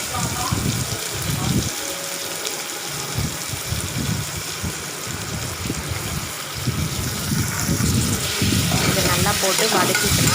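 Onions, curry leaves and green chilies sizzle and crackle in hot oil while being stirred for a mutton gravy, a loud, continuous frying hiss with scraping stirs, up close, and a voice talking over it.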